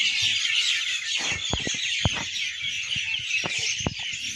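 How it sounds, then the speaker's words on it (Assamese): Small birds in a bamboo clump outdoors, a dense stream of high chirps and twitters close by, with a few sharp thuds and knocks breaking in. "ইয়াতে বহুত চৰাইবিলাকে থাকে আমাৰ বাঁহত"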